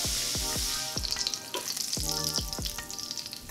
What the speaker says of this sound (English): basting with half a stick of butter and nothing else to really taste those flavors of the steak